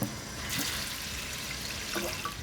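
Water poured into a pot of lentils being topped up for a bacon and lentil salad, a steady rushing stream of liquid that runs without a break for a couple of seconds.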